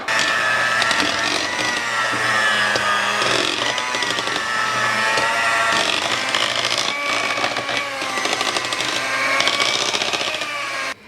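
Philadelphia cream cheese and Nutella are mixed together in a bowl, giving a loud, steady whirring that runs unbroken through the whole stretch, with no voices.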